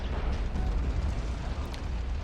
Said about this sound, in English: let's try to use some more of that artillery.